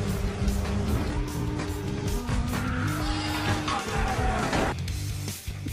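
Film car chase with police pursuing at high speed through narrow streets and old building alleys, engines roaring loudly with tire skids and squeals over a dense, continuous soundtrack of music and effects.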